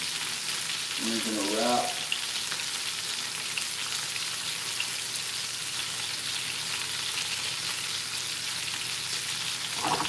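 Homemade bacon fries in a pan with a steady, dense sizzle and crackle, close and continuous, as someone talks briefly near the start.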